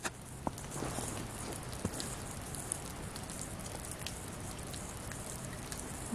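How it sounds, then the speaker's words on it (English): Steady rain falls outdoors on a foggy day, a continuous close hiss of drops spattering on surfaces with a few sharper ticks and light movement, no talk. "Also the rain seems to be picking up."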